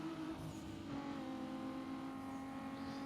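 Car engine in Need for Speed Most Wanted, a steady droning roar with layered harmonics that holds loud and even throughout, with no distinct gear-change break standing out.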